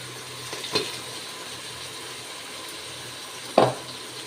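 Goat lung stir-fried in a pan for a homemade thokku: a soft, steady sizzle runs throughout, broken by two brief clinks of stirring, one early and one near the end.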